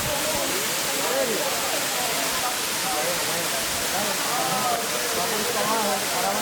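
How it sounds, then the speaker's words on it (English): Charco Prieto waterfall in northern Puerto Rico, swollen after a hard afternoon of rain, pours in a loud, steady, broadband roar that fills the whole stretch, with people talking faintly beneath it. "So it gave this waterfall a lot of life."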